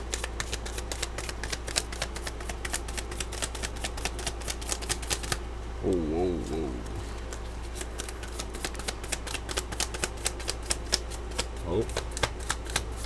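Tarot or oracle cards being shuffled for a spiritual reading, producing rapid crisp riffling flutters close up throughout, with a few short surprised exclamations from a speaker partway through.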